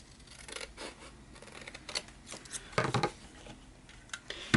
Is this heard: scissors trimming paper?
yes